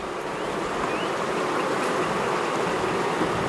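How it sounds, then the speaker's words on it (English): A dense, steady hum of many honey bees crowds around an open, well-populated hive, loud, close and unbroken. "There's a lot of bees. This is a very well populated hive."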